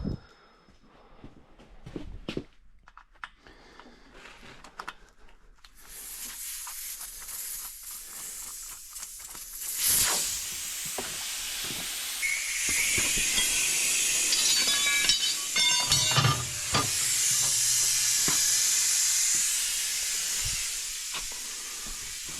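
Air hissing out of a trailer tire on a six-lug wheel with the valve core pulled, a loud broad rush starting partway in and continuing strongly, after scattered clicks and handling noises.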